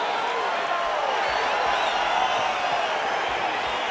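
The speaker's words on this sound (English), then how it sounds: "crowd getting excited as this fight gets underway" Arena crowd at a UFC fight keeps up a steady, dense roar of cheering and chatter throughout, with no single voice standing out.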